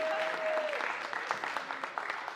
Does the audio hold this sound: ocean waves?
no